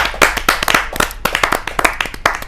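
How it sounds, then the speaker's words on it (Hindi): Audience claps to welcome a poet at a televised Hindi kavi sammelan, loud close, dense clapping from a small group with sharp irregular hand strikes. "जोरदार तालियों के साथ हम स्वागत करें मनोज फगवाड़वी जी"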